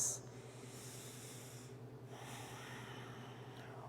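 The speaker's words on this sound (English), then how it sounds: "One more breath, deep inhale." Deep breathing during a yoga mobility stretch. Quiet, hissing inhales and exhales with a long breath at the start and another around the midpoint, close but faint, and no talking.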